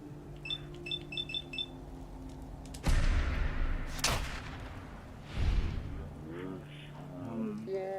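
Gunfire in Fallout 4 Survival Mode: two loud bursts of shots, the first around the middle and a second a few seconds later, amid game beeps and a steady background hum, with brief voice-like sounds near the end.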